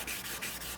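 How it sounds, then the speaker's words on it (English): Light hand sanding with 400-grit sandpaper along the length of a carbon fiber grip gives a soft, steady rubbing hiss in quick back-and-forth strokes, faint and close. "Sanding by hand, the length of the grip."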